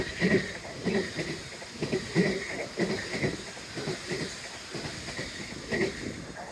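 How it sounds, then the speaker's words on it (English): A train rolls past along the seawall at Teignmouth, close and fairly loud, its wheels beating a steady repeating clickety-clack over the rails with a faint background hiss. "Surprise train!"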